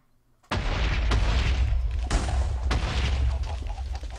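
A volley of Minecraft TNT explosions in a Skyblock modpack: a sudden loud boom, then three more blasts about a second apart, each trailing into a rumbling roar.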